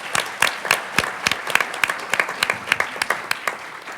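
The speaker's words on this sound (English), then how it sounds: "if we could just give them a round of applause" An audience at a panel discussion gives a round of applause, a lively burst of many hands clapping at close range that carries on for several seconds.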